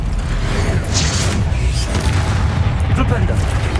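A Confringo blast spell going off in Hogwarts Legacy, dense loud booms and crackling bursts layered over a constant low rumble of combat, close and continuous.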